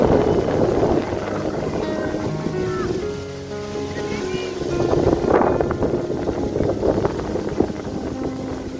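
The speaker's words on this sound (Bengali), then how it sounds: "প্রচুর ঝড়, এই যে দেখুন ঝড়ের শব্দ শোনা যাচ্ছে" Storm wind blows hard and gusts continuously, roaring and buffeting the microphone outdoors just before heavy rain, with a person speaking over it.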